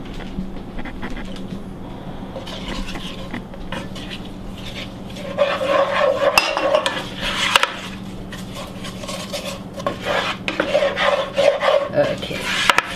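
Flour being stirred into melted butter in a pan for a Greek cheese pie, heard as steady wooden scraping and rubbing that grows louder and busier partway through, with occasional clinks of the pan.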